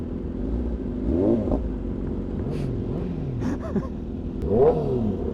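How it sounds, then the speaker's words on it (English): A motorcycle engine revs in stop-and-go traffic, rising and falling in several quick throttle blips over a steady idling rumble, with other vehicle sounds around it. "Rev that bike, brother!"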